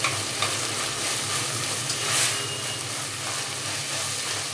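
Onion, garlic and tomato frying in a pan for a green pea and potato kootu, a steady close sizzle with faint stirring, no voices.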